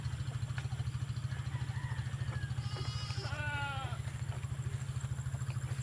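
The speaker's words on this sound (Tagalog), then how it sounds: "Ito yung una naming kambing dito." Goats on a farm give a couple of brief bleats, one faint and a second clearer and closer, over a steady rhythmic engine-like thrum in the background.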